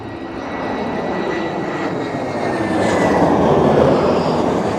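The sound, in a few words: airliner rejected landing in high winds at Heathrow Airport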